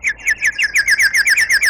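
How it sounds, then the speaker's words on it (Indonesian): Songbird calls of the kind used in a bird-lure recording, such as a mountain white-eye, orange-headed thrush or lovebird: a fast, steady run of bright, high chirping notes repeated about every tenth of a second, loud and close. "intro masteran burung atau suara pikat burung."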